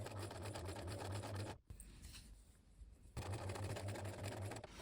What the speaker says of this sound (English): I don't know how to get it closer with my sewing machine being as finicky as it is